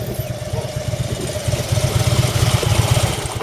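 A motorcycle engine putters through a slow, tight U-turn, its loud, close, uneven low throb pulsing rhythmically and swelling slightly as the bike comes around.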